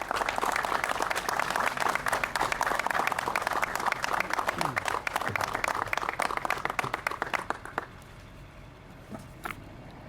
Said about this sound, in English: let's give a round of applause and a giant thanks to our fire chief, Chief Frederick